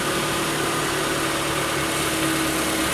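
A Toyota RAV4 engine idles steadily after a crank position sensor replacement, a constant close hum with a low mechanical drone and no voices over it.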